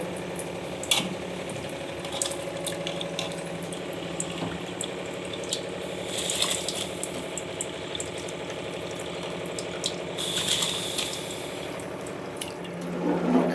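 Water comes to a boil in a pot for restaurant-style chicken dum biryani rice, giving a steady, close bubbling hiss that runs throughout, with a few faint clinks and brighter swells along the way.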